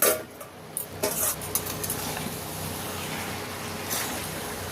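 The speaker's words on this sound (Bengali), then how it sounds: "চাপাটা খুলে 1 মিনিট মতো নাড়াচাড়া করে নিলাম" A hilsa fish head curry with vegetables is stirred in a pan, with scattered scraping and clinking at first, then settling into a soft continuous sizzle and bubble, close by and fairly quiet.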